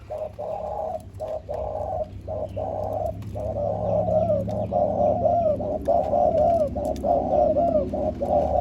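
A dove coos in repeated soft, throaty phrases, close by and clear over a low background hum.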